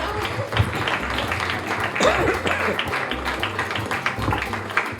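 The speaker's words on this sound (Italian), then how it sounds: "Un bel applauso." An audience applauds at a regional beauty pageant final in Solesino, Padova, with scattered clapping throughout that swells briefly around two seconds, mixed with crowd murmur and a voice over a hall sound system.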